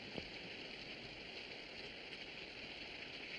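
Steady rain falls outdoors, a dense continuous hiss of drops spread evenly throughout, fairly faint and unbroken.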